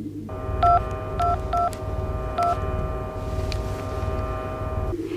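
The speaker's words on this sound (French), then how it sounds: "Elle appelle quelqu'un avec un téléphone cellulaire." A cell phone keypad sounds a short run of DTMF dialing tones, four clear beeps spaced unevenly over a steady electronic hum, with no voices.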